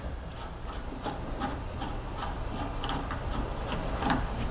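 Large flathead screwdriver turning out a flow control retainer on a water softener, a close, faint scraping rub with regular ticking clicks as the part twists loose.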